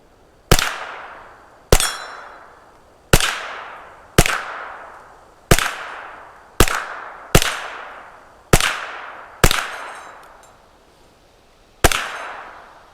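Kriss Vector firing single shots at targets about 25 metres away: ten sharp, loud reports at uneven intervals, each with a short ringing decay, no talking.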